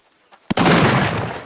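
An explosion in the VR game Arizona Sunshine: a loud blast bursts in after a short quiet lead-in, then a broad rumbling roar carries on and slowly fades.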